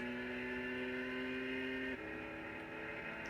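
Mini Cooper engine racing in Gran Turismo 6 at Sarthe, a steady loud high-revving drone that holds pitch, then drops sharply at a gear change and carries on with no talk.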